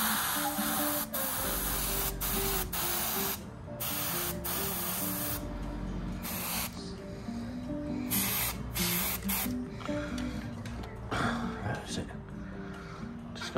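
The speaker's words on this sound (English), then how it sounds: "So, I'm just going to spray all this black." An aerosol can sprays black paint onto a 1/48 Academy A-10C model aircraft cockpit part in loud, close hissing bursts that stop and start several times, with brief gaps between the passes.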